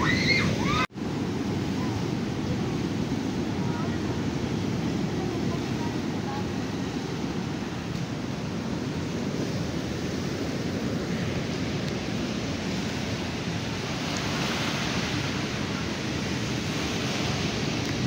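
Steady surf and gusting wind at a beach in Quezon, a broad continuous wash of waves with wind buffeting the microphone throughout, after a brief knock near the start.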